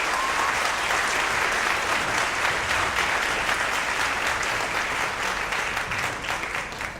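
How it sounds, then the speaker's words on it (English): Concert audience applauding middle school orchestra students at a spring concert, a full, even round of clapping from a large crowd that continues throughout and eases slightly at the close. "so that deserves a round of applause for that"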